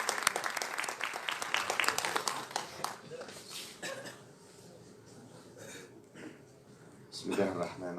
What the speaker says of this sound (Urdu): تالیوں سے ایک بار استقبال